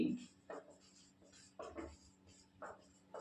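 Pen or chalk writing out the average speed formula during a Hindi physics lesson, heard as quiet scratchy strokes in several short bursts, close and faint, with no talking.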